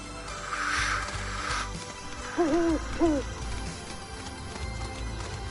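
Owl-like hoots from a red bird in a video game: two short, clear hooting calls about half a second apart, over a soft in-game ambient background.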